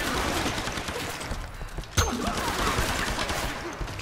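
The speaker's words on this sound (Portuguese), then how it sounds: "Tem um cara atirando lá de cima que me ferrou" Enemy gunfire from an elevated position in the video game Tomb Raider. Dense, rapid automatic fire rattles continuously, with one sharper, louder shot near the middle, heard alone and close.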